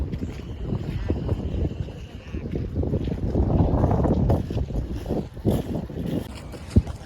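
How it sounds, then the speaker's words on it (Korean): Wind gusting outdoors in a Paris park beside water, a steady rumbling buffet against the microphone that swells in the middle, with faint sounds in the background. "바람이 물려오고 있습니다."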